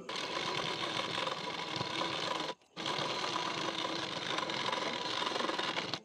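A sewing machine runs steadily, stitching a neck strip on a blouse, a close continuous rapid rattle with one brief pause midway before it resumes.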